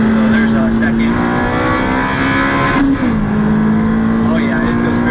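Turbocharged Toyota MR2 Spyder engine pulling hard and loud up through the gears, with a steady droning note that dips at a quick shift near three seconds and then climbs again, all heard from close by.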